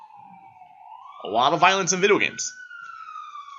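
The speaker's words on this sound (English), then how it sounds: "just wait for this sirens to go by" Police siren passing by, a loud wailing tone sliding up and down and holding steady, while someone talks over its middle.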